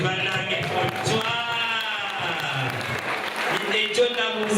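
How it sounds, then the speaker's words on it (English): An audience at a secondary school event applauds, a continuous round of clapping mixed with cheering voices and talk, fairly close and sustained throughout. "Another round of applause, manange for Chwa."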